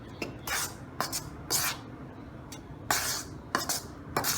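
Baking powder and baking soda are stirred into chocolate tart batter, giving bursts of metal clinking and scraping against a bowl in several short, separated strokes at close range with quiet pauses between them.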